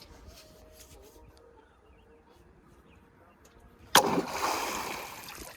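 A fishing net is slapped down onto water: after a quiet stretch with faint bird calls, one sudden loud splash is followed by a short spreading wash.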